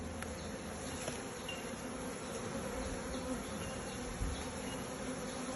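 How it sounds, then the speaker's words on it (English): Honey bees from an opened beehive being split hum in a dense, steady buzz close to the microphone, unbroken throughout with a faint thump near the end; no talking. "There's so many bees already."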